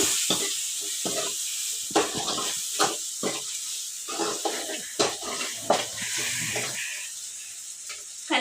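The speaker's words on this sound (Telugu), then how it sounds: "ఒకసారి కలిపేస్తా." Chili powder being stirred into a dish cooking in a pan: a steady sizzling hiss under repeated scraping, clattering strokes of a spoon against the pan, close by with no talking.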